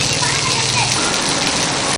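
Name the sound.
heavy monsoon rain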